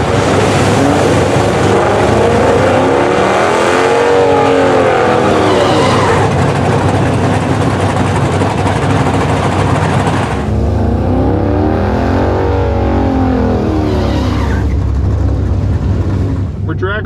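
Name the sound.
Tesla Plaid and Hellcat Charger drag racing down quarter mile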